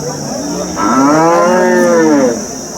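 A cow at a busy cattle market in Sangola lets out one long, loud, close moo that swells and fades over a low background murmur.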